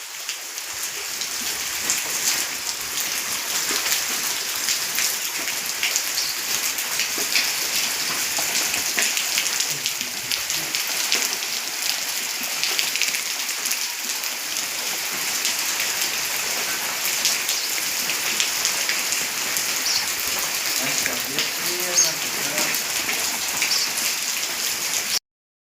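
Rain falls steadily on surfaces outdoors, a dense, even hiss of drops lasting throughout, moderately loud and unbroken, with no voices.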